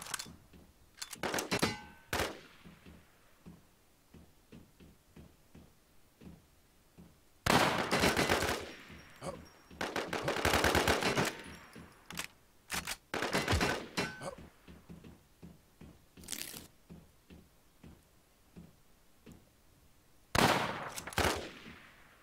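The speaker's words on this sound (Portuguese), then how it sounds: "Três tiros, olha outra vez, três tiros, meu." Bursts of video game gunfire, loud and sharp, in several separate volleys with quiet gaps between them; no one speaks.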